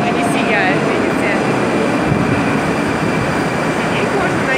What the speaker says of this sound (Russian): И вот мой поезд идет.